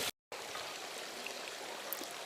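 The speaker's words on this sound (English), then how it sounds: "These waterfalls will slowly trickle to nothing." Garden pool waterfalls trickling steadily, a continuous soft wash of running water after a brief gap at the start.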